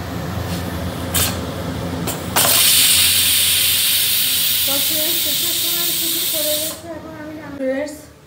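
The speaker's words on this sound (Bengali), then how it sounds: "এবার সিটি মারা হবে।" Pressure cooker cooking shami kabab releases a loud, sustained steam hiss after a few short bursts, holding steady for several seconds before tapering off.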